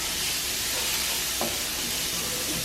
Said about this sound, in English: You're going to saute the onions for about 3 or 4 minutes.